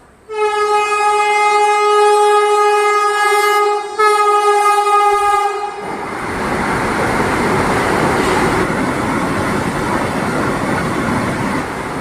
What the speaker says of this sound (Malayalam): 20632 എന്ന ട്രെയിൻ നമ്പറിൽ ആലപ്പുഴ വഴി സർവീസ് നടത്തുന്ന തിരുവനന്തപുരം മംഗളൂരു വന്ദേ ഭാരതാണ് വന്നുകൊണ്ട് നിൽക്കുന്നത്